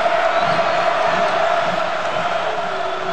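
A college basketball crowd cheering for Oregon in a home game against Cal, a continuous loud roar of many voices with whoops, sustained for a few seconds.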